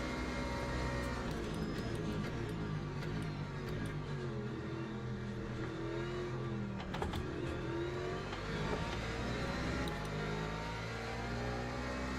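A Porsche race car engine in Le Mans Ultimate drones steadily at high revs, loud and close, with a sustained, even tone and no talking.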